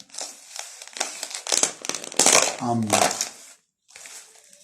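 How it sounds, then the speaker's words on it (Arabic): Clear plastic takeaway box of koshari being opened, close crinkling and snapping plastic in short bursts, with a voice talking over part of it. "نفتح كده علبة، طبعا هنا شفافة كده مبين الشغل"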